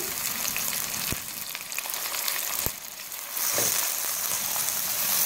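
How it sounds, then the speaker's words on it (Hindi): Boneless chicken frying with onion and ginger garlic paste, a dense continuous sizzle that swells louder toward the end, punctuated by a few sharp utensil knocks. "चिकन को हम जिंजर गार्लिक पेस्ट और प्याज के साथ फ्राई करेंगे अच्छी तरह"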